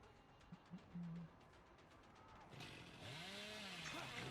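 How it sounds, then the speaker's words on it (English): The Hillbilly's chainsaw in the video game Dead by Daylight revs up, a rising engine whine that builds and holds loud after a few faint short sounds, with no talking over it. "Chainsaw for dominance for no reason."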